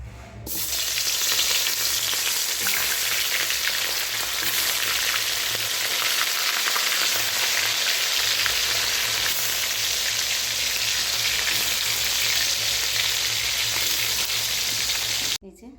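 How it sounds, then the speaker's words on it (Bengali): Crabs, marinated with salt and turmeric, frying one by one in white oil in a kadai: a loud, steady, dense sizzle that runs unbroken from start to end, with no talking. "এবারে এই যে কড়াতে সাদা তেল দিয়ে দিয়েছি ভেজে নেবো একটা একটা করে"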